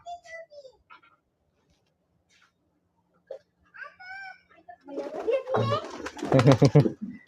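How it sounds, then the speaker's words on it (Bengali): Pigeons coo softly at a village home as they are let out, a few scattered calls in the first seconds before voices start talking close by and grow louder. "আজকে কবুতর ছাড়বো মাইশা।"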